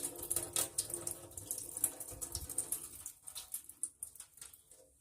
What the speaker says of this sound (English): So throw all this bitter water away